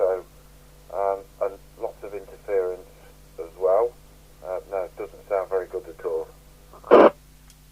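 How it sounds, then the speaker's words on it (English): A voice comes through a PNI HP9700 UK FM CB radio on a dummy load, sounding narrow, heavily compressed and faintly echoey, with a steady low hum beneath the speech and a brief louder burst near the end. "It sounds like very compressed audio with a very slight echo"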